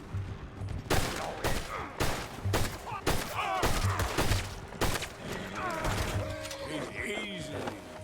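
A ragged volley of gunshots in Red Dead Redemption 2 during a standoff with United States Army soldiers. Loud cracks land irregularly, some close together, with voices and shouting between the shots.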